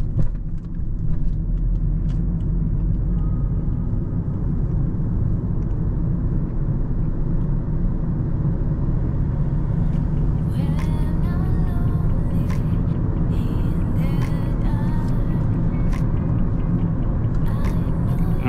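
Interior of a 2013 Kia Ceed 1.4 with a six-speed manual gearbox under way: steady, loud low engine and road rumble with no breaks. Later, brief clicks and thin squeaks sound over it.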